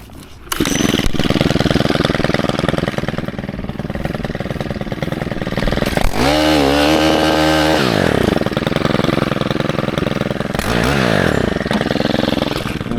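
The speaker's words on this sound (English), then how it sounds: "KM131R with the cultivator attachment" A gas-powered KM131R with a cultivator attachment churns through compacted flower bed soil, its small engine buzzing loudly and steadily, revving up and dipping in pitch as the tines bog down and recover.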